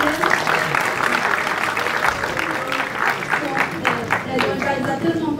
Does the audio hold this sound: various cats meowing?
no